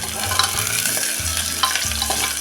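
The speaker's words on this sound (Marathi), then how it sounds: "आता त्यामध्ये टाकूया हा कांदा कांदा आपण थोडा वेळ परतून घेऊया" Onion sautéing in a pan while making vegetable pea pulao, a dense steady sizzle with scraping stir strokes recurring every second or so, close and fairly loud with no voices.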